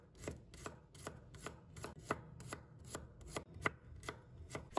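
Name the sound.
knife slicing garlic cloves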